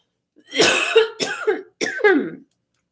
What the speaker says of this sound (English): And now I start with the choking on thin air again.